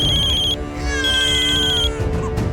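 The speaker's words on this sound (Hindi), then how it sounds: "अब किसका फोन आ रहा है?" A phone ringtone plays loudly in repeating electronic tones, cut off briefly and resuming before stopping.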